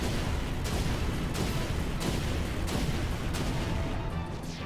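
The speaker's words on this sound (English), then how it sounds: "Let's hit them all with the Magma Bomb." Magma Bomb fire spell striking a group of enemies in the video game Chrono Cross during a hydra battle: a sustained loud roar of repeated booming blasts, several heavy bursts rolling in quick succession.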